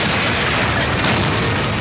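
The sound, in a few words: airburst explosion shockwave boom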